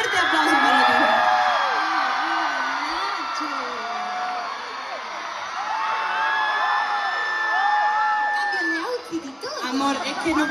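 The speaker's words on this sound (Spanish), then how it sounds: "Así que un fuerte, fuerte aplauso para Tini" Concert crowd at a Lola Indigo and Tini show in Valladolid cheering for Tini, a loud, sustained roar full of high whoops and screams rising and falling, without any spoken voice over it.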